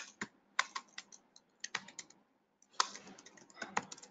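A code comment being typed on a computer keyboard, with crisp, close key clicks arriving in short irregular bursts separated by brief pauses. The clicking sounds quiet and alone, with no voices.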